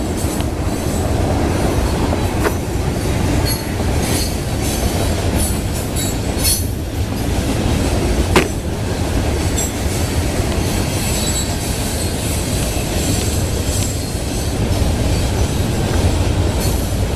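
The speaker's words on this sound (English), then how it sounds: "There goes FEC. Florida East Coast Rock Train." Florida East Coast freight rock train passing through Boca Raton, Florida, with a continuous rumble of wagons, rhythmic wheel clacks and occasional sharp wheel squeals, loud and steady throughout.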